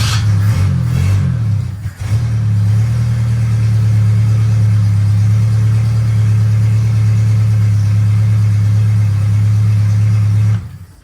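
An old Chevy car engine running on its own fuel system sputters briefly, then settles into a loud, steady idle that holds for several seconds before cutting off abruptly near the end.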